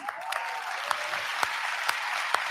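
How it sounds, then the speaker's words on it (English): Steady applause from an audience, a dense patter of many hands with a few louder individual claps standing out, continuous and moderately close. "Claps"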